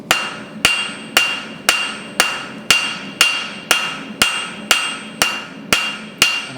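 A blacksmith hammers hot metal while forging a leaf, with twelve sharp, ringing blows struck at a steady rhythm about every half second, each blow decaying before the next.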